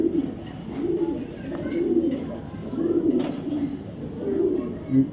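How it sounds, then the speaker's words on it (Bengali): White racing pigeons coo in low, rolling phrases that repeat every second or so, close and steady, with faint background noise. "টপ কোয়ালিটির জোড়া হোয়াইট রেসার কবুতর"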